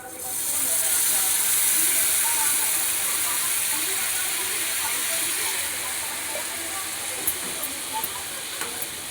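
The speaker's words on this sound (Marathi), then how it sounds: "आता पाणी ओतायचं." Water is poured into a hot pan of turmeric and salt seasoning and sets off a loud, steady hiss of steam that runs almost unbroken and eases off slightly toward the end, with a few faint clicks.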